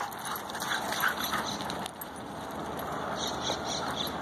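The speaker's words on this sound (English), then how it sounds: "This is Riley, is a German Shepherd, and Dodger is the Golden Retriever." A German Shepherd and a Golden Retriever play together, giving soft whimpers and short yips within a steady, busy background noise. No one speaks.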